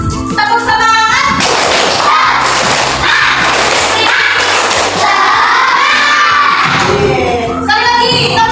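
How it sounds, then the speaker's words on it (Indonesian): A classroom of students does the 'tepuk semangat' clapping chant, with loud, rhythmic group claps and chanted voices, thumping and shouting together and filling most of the stretch. "Sekali lagi, tepuk semangat."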